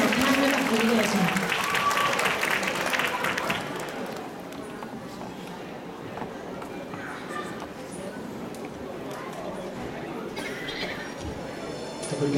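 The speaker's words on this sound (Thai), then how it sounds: "ขอทุกท่านปรบมือพร้อมกันนะคะค่ะให้เกียรติกับนางงามทั้ง12ท่านด้วยกันด้วยค่ะ" Audience applauding twelve contestants at a 2012 Nopphamat beauty pageant held at a temple, loud clapping at first that thins to a fainter, scattered patter under background noise and voices.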